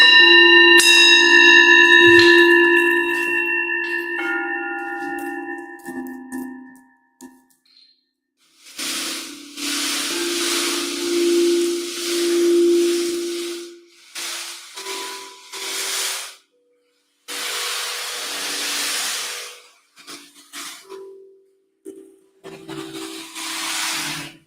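Gongs resonating in a sound bath, long sustained shimmering tones that swell and fade in waves, with brief silent gaps between strikes.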